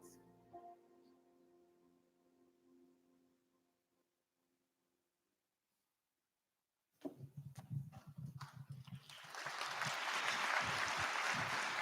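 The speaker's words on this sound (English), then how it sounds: "We plan it out so I get lots of applause." Applause at an arts school open house rises after a quiet stretch: sparse claps start, then swell into loud, dense clapping from a large audience.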